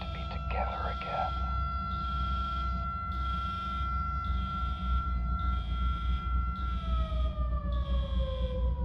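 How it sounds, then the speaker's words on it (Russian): Police siren in the RoboCop video game: a steady wailing tone held for several seconds that then slides downward, over a low rumbling game soundscape with a brief burst of other effects near the start. "Такое чувство, как будто сирена у нас."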